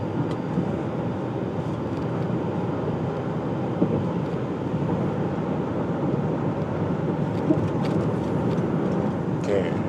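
A 2015 Toyota Alphard 2.5 S A-Package van drives over a bridge at about 100 km/h, with a steady, loud road and wind roar filling the cabin.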